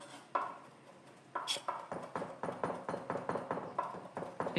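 Ginger being chopped with a knife on a cutting board, a quick series of sharp, regular taps that start sparse and then come in a steady rhythm, close and fairly quiet.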